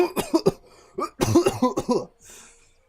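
A voice imitates two figures coughing from smoke, giving a burst of rough, harsh coughs in quick clusters, a short pause, then more hacking coughs that trail off into a breathy exhale.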